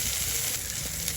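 Garlic and ground spice paste sizzling loudly and steadily in hot oil left from frying fish, a dense continuous crackle with no voices.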